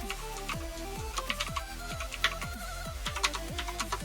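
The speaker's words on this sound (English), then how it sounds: "we're going to type in name and organization" Keys clatter on a computer keyboard during a Windows Whistler 2428 install, a fairly steady run of close, crisp keystrokes with a few louder taps among them and no voices.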